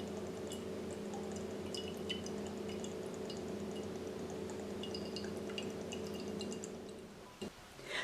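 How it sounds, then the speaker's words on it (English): Coconut water drains from a punctured coconut into a bowl, faint trickling with scattered small drips against a quiet room hum. "We can now shake the coconut to release the coconut water"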